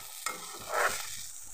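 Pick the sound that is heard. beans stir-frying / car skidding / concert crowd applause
beans stir-frying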